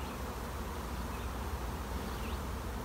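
Honeybees buzz steadily in and around a brood-chamber hive, a dense continuous hum with a few single insects droning past close by.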